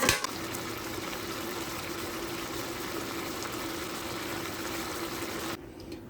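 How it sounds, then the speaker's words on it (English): Water from a can pours steadily into a pan of diced tomatoes sauteing over fairly high heat, a continuous close rushing and bubbling hiss that runs for several seconds and then drops off sharply. "right here I have added 1 can of water, right here."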